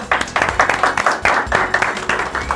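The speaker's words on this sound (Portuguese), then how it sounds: "Salva de palmas." Group clapping in a casual home setting during a pizza-making session, a brisk burst of handclaps with uneven rhythm, fairly loud and close, without talk over it.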